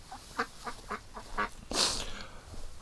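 A duck near a homestead quacks in a steady series of short, nasal calls at moderate distance, ending in a louder, harsher burst over faint background noise.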